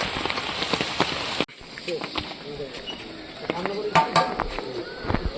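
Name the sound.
rain falling on water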